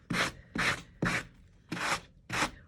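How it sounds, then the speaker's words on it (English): A sanding block is rubbed by hand across a thrift-store piece, five firm rasping strokes in an even rhythm, close and loud with short pauses between them. "take my sanding block and just basically sand it out"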